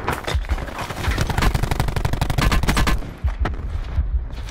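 Loud, close gunfire in a video game shootout during a duos match: a dense run of rapid automatic bursts that breaks off, followed by a few scattered single shots.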